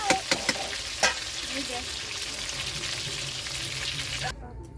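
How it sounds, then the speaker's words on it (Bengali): Potatoes fry in oil in a wok with a continuous sizzle, broken by a few sharp clinks of a utensil near the start. "আর অল্প আলু ছিল, কড়াতে দিয়ে দিয়েছি, ভেজে নেব লাল লাল করে।"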